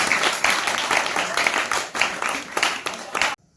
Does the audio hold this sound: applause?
yes